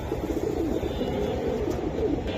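Silver Giribaz racing pigeons coo in a low, continuous, rolling murmur, several birds overlapping at close range with no pauses.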